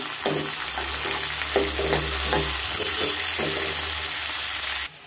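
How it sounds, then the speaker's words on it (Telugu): Onions and green chillies frying in a pan give a loud, continuous sizzle, with a few spatula scrapes and stirs over the hiss before it cuts off abruptly near the end. "దీంట్లో ఉల్లిపాయలు పచ్చిమిరకాయలు వేసేసుకుందాం. ఇవి కూడా బాగా ఫ్రై చేసుకుందాం."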